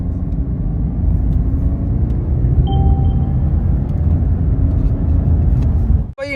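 Cabin sound of a 2021 Mercedes C-Class accelerating at full throttle in Sport Plus: a steady, loud low engine and road rumble lasting several seconds, ending in a brief dip and a sharp click.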